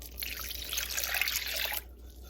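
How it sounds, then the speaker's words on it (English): Warm water pours steadily into a mixing bowl of rye sourdough dough with active starter, a continuous near trickle lasting under two seconds before cutting off. "360 grams of warm water"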